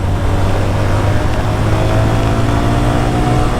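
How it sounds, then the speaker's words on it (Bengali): A Lifan KP 165 motorcycle pulling hard at full throttle, a loud, steady, close engine roar that holds constant throughout with no talk. "আরেকটা হার্ডলি থ্রটল চার্জ করে ফেলি।"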